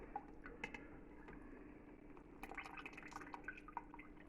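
Beef stock drips steadily, producing faint, irregular small plops and splashes in a quiet kitchen with no talk.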